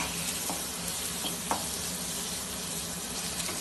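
A spiced potato mixture is stirred in a hot pan, with steady broadband frying sizzle throughout and a few soft scrapes of the spoon, close and continuous with no talking.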